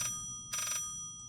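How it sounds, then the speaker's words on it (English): A telephone rings in the video game The Phantom Fellows: two short electronic ring bursts, close and clear, separated by a brief pause. "The phone is about to ring."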